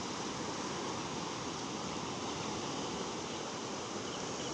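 Water floods across a rice paddy embankment in the Isan countryside near Khon Kaen, where people fish with lift nets. It makes a steady, unbroken broadband rush that stays close and even throughout, with no talk.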